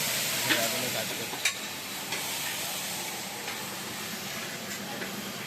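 Fish cooking in a pan gives a steady, moderate sizzle and hiss, with a few sharp clicks of a utensil against the pan scattered through it.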